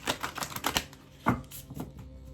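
Tarot cards being shuffled, a run of quick crisp riffling taps and slaps close by, several bursts with a sharper snap near the middle, no talking.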